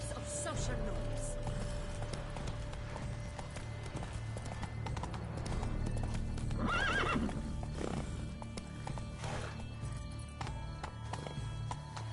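Horse hooves clip-clop in The Witcher 3 with occasional neighs, a steady rhythmic trot heard under game ambience and a character's speech.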